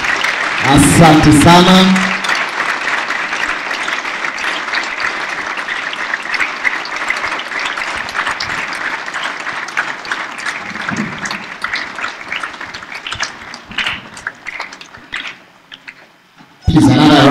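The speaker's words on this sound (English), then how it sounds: "Makofi tafadhali." Sustained applause from a large audience at the opening ceremony of a Model UN conference in Tanzania, as the guest of honor approaches the high table; steady dense clapping fills the room, with brief speech at the start and end.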